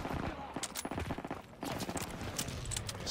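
Rapid bursts of machine gun fire in Call of Duty WWII, sharp repeated cracks in quick rhythm broken by a short pause, with talk mixed in over the gunfire.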